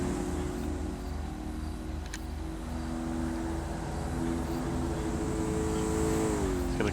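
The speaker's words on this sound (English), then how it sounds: "Looks like Quicks gets the overtake on the turn" Race cars in an Xbox racing game drone steadily throughout, engine tones holding a constant pitch that shifts slightly near the end, a continuous loud motor sound with no speech.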